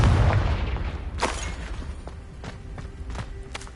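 Spell explosions from Confringo cast in Hogwarts Legacy, a loud boom near the start followed by a couple of fainter thuds and sharp cracks over a rumbling game soundscape.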